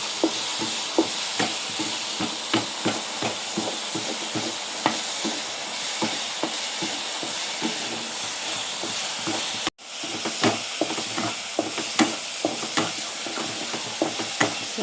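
Ginnu sweet mixture is stirred as it dries in a pan over a slow flame, giving a steady close sizzle and hiss. Soft scraping strokes of the spoon repeat throughout, with one brief break.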